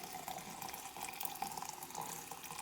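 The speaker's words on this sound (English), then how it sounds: "And you kind of slowly pour it in." Hot water is poured slowly over coffee grounds in a French press, a steady soft splashing stream lasting the whole moment, close and fairly quiet.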